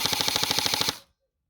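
An upgraded airsoft gun fires a rapid full-auto burst of about a second, an evenly spaced stream of sharp, loud close shots that stops abruptly and leaves silence.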